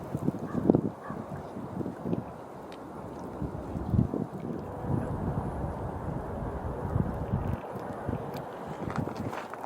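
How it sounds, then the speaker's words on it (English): Wind gusts buffet the microphone on a snowy, blizzard-swept lakeside walk at Onondaga Lake, a low rumbling roar that rises and falls unevenly, with faint crunching steps mixed in. "On this really wintry, snowy, windy day"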